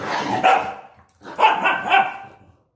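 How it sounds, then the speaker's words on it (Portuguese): A pair of pet dogs bark in short bursts while roughhousing at home, two or three close, loud clusters of barks with brief pauses between. "Não esquenta não, que é meus cachorros fazendo bagunça, tá?"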